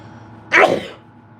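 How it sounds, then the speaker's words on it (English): A single sharp human sneeze bursts out loud and close after a quiet moment, then fades quickly into a soft room background. "I don't know why I'm sneezing so much either"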